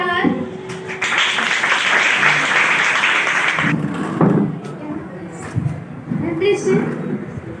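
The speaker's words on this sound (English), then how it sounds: "And please clap for her" Audience applause greets a famous actress invited onto a stage, a burst of clapping lasting a few seconds before fading into room noise and thumps as people settle and talk resumes.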